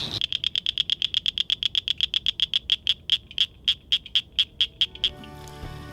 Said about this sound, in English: Both species sound like marbles tapping together, although the northern cricket frog's taps are slightly more rapid.